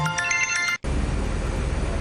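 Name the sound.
mobile phone ringtone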